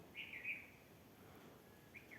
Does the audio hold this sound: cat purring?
no